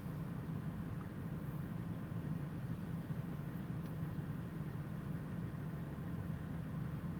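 Trucks idle at a Love's truck stop, a distant, faint, steady low diesel rumble that hangs unchanged throughout with no voices over it.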